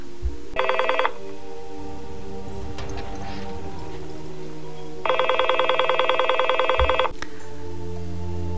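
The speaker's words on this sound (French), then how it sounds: "le téléphone sonne" A telephone rings twice in a home, each a short bright electronic trill with a long quiet gap and low rumbling between them, with no voices.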